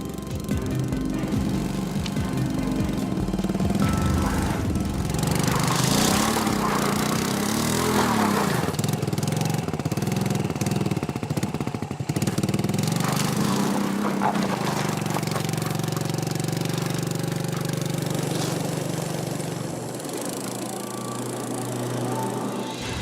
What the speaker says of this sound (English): His old moped is struggling.